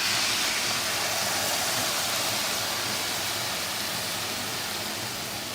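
Milk poured into sautéed carrots in a hot pan for carrot halwa makes a steady, even sizzling hiss that fills the whole stretch at moderate volume, with no talking.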